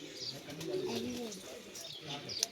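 Pigeons coo softly at a farm where people have come to catch them, a few low murmuring calls close by in open outdoor air with faint chirps and a sharp click near the end.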